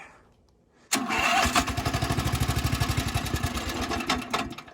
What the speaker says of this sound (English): I wonder if you can start this lawnmower by not being on it.